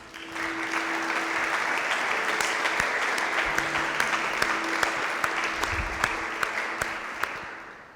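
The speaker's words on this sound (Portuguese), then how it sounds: "Você pode aplaudir o Senhor por isso?" A church congregation applauds during a sermon, a steady wash of many hands clapping that fills the space evenly from start to finish, with a few sharper claps standing out near the end.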